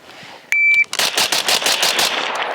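A Springfield Armory Hellion bullpup rifle fires one loud, sharp shot, followed by a dense crackling, rattling tail and a thin electronic beep, with no voices.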